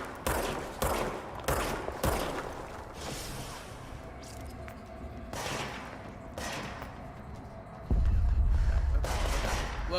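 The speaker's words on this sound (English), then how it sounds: "Someone's shooting at me. Oh, it's a firefight." Video game firefight with rapid gunfire, sharp shots cracking in clusters for several seconds, then a louder rumbling stretch near the end, close and busy.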